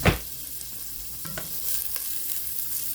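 Onion caramelizing over medium heat in a pan, sizzling steadily with a few brief stirring scrapes, close and moderately loud with no talking.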